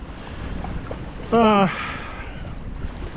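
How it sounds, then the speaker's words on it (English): Wind blowing over open water while fishing from a boat, a steady broad rushing noise with low buffeting against the microphone throughout, plus a brief tonal squeal near the middle. "We've been getting crushed by this wind."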